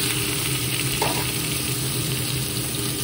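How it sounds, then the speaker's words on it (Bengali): Raw jackfruit pieces fry in oil in a pan, giving a constant dense close-up sizzle with a brief stir partway through and no talking. "এখন আমি কাঁঠালটাও ভেজে নেব"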